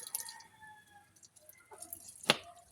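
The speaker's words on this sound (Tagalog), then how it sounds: "Kaya nabanlas naman siya sa tubig." Water drips and splashes lightly as jackfruit sap is rinsed off hands, with a few faint trickles followed by a sharper splash near the end.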